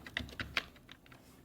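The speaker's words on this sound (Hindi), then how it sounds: "यहाँ पे हम प्रोजेक्ट का नाम लिखेंगे, जैसा कि मैं अभी लिख रहा हूँ" A few quick keystrokes on a computer keyboard while entering a Code::Blocks C++ project name, close and light clicks in a short burst.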